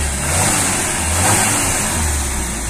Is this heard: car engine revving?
yes